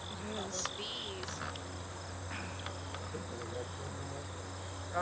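Honeybees humming around an open hive frame during a beeyard inspection, a soft, steady drone with faint higher buzzes flickering past, quiet and close.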